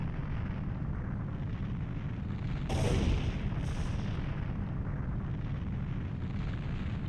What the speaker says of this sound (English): And this place, we get to watch it get destroyed.